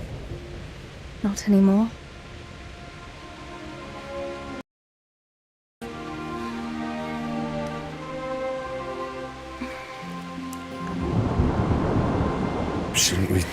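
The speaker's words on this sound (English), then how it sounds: "Not afraid of thunderstorms, are you?" Thunderstorm with steady rain in the medieval RPG Kingdom Come: Deliverance, a low rumble of thunder building toward the end over continuous rainfall, with brief game dialogue and a short dropout in the middle.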